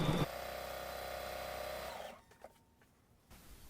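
Home sewing machine stitching quilt blocks for an Alaska block-of-the-month quilt, a steady close motor hum for about two seconds that then stops, leaving faint handling clicks and quiet room tone.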